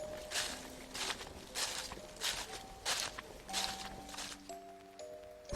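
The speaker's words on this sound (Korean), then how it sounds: "분명히 내 주변을 맴돌며 걷는 소리이다." Footsteps shuffle over fallen leaves in a steady rustling rhythm, close and soft, used as an eerie horror-story effect with a faint tonal music bed underneath.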